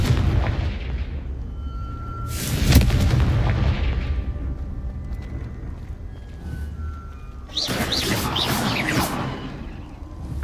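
Explosions from the Confringo spell in the video game Hogwarts Legacy: a sharp blast near the start, then a longer burst of crackling detonations later, loud against a low game rumble.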